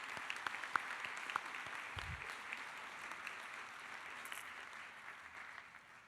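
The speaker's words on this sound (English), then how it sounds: "So let's give everybody a round of applause." A baccalaureate graduation ceremony audience claps together, a broad wash of applause with a few sharper nearby claps, gradually fading toward the end.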